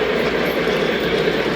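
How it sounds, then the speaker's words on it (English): Model train running on a home layout, a steady close rolling clatter with faint clickety-clack of wheels on track, continuous and alone without talk. "just wanted to show you guys running some trains."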